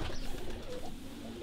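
A racing pigeon held in the hand coos softly and close, a low, throaty murmur lasting the whole brief moment, with no talking over it.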